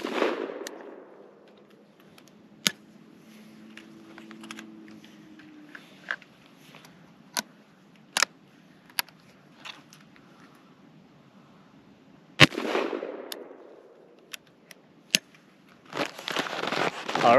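A .410 shotgun firing 3-inch shells outdoors: sharp, sparse reports and clicks with one loud, echoing blast late on and handling noise in between.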